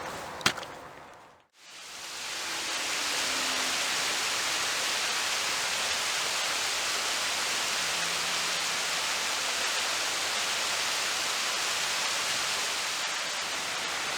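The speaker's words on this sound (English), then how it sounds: "behind me here is actually the waterfall that I was referring to just a little bit ago" A waterfall in George Rogers Clark Park, a steady, loud broadband rush of falling water that starts after a brief quiet moment and continues unbroken, with no talking.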